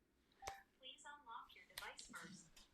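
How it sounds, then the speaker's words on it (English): A smartphone's Bixby voice assistant speaks in short synthetic phrases, faint and close, broken by a brief electronic tone. "listen to my phone, it's talking to me"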